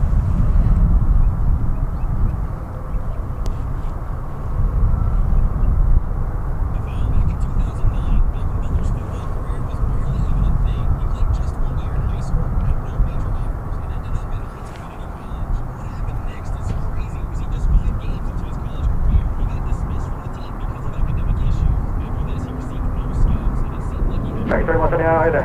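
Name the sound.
airliner on the move at DFW airport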